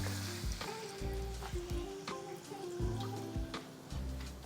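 Beef stock sizzles in a pan after bourbon has cooked down, giving a soft steady hiss with light repeated ticks and clinks.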